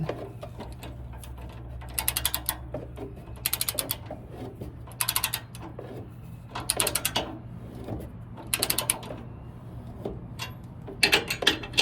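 A hand ratchet tightens bolts on a front hitch being installed on a Class C RV, sounding in several separate bursts of rapid metallic clicking with short quiet pauses between them.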